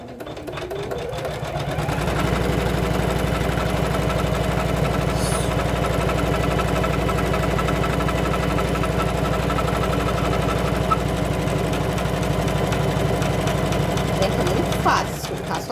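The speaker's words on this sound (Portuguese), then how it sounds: "Agora, eu vou trazer na máquina e vai costurar novamente" An embroidery sewing machine stitching fabric for a mermaid Tilda doll runs with a steady, fast mechanical whir and rattle for about thirteen seconds, close and continuous, then stops.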